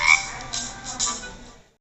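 A frog croaks in three or four short, raspy bursts spaced about half a second apart. The croaks are close and clear, then fade to silence.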